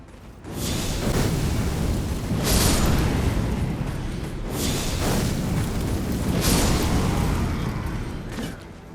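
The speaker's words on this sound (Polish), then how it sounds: "Jest to inkantacja, która rzuca kilkoma kulami ognia i dodatkowo można ją y, naładować, aby kule ognia wybuchały." Fireball incantation in Elden Ring, a roaring rush of fire with a series of booming explosive bursts, loud and close, swelling and fading in repeated waves with no talking.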